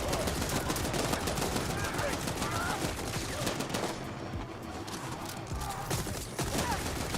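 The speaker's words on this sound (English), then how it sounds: "Okay, somebody shooting at us." Rapid gunfire crackles through a firefight in the video game The Ascent, dense bursts of shots and impacts running nearly continuously at high volume, with a voice talking over part of the action.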